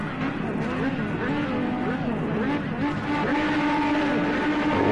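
IndyCar race cars pulling away from the grid at Laguna Seca in Project CARS 2, a dense layered engine roar with rising and falling whines from many cars, steady and loud, with a commentator talking over it.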